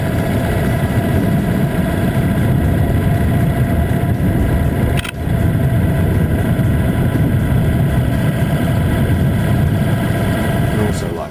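A 2014 Indian Chieftain motorcycle engine runs at a steady, loud idle-like rumble throughout, with one brief dip partway through before the drone resumes unchanged.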